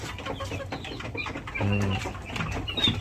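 Free-range village chickens of the kampung and KUB breeds cluck and chatter in a farm pen, with soft overlapping calls and one clearer cluck near the middle.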